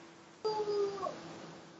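A dog gives a short, high whimpering whine that rises and breaks off within about half a second, close by. No one talks over it, and a faint room hush follows.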